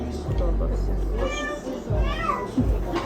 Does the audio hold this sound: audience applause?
no